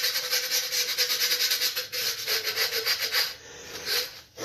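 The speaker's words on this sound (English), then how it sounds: "I love this sandpaper because it's really heavy duty" Heavy-duty sandpaper rubbing the broken edge of a wine bottle, a close, rhythmic gritty scraping in quick repeated strokes with brief pauses.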